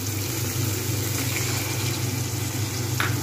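Ginger garlic paste in a hot pan hisses in a steady, even sizzle after water is poured in, a close, continuous frying noise with no talking.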